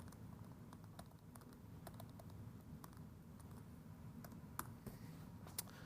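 Java code typed on a computer keyboard, with soft, irregular key clicks in short bursts and a couple of sharper taps, close but quiet over a low room hum, no voices.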